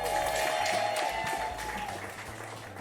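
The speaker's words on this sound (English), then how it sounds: "please give a big round of applause for Ryan Green and Raanan Hershberg" Audience applause at a live comedy festival show, a steady wash of clapping from the crowd holding for about three seconds before tapering slightly.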